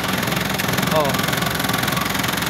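A truck engine runs at a steady idle, a continuous mid-pitched rumble with a rhythmic knocking pulse, close and fairly loud throughout.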